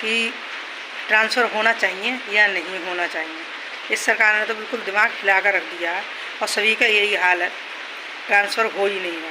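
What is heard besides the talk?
heavy rain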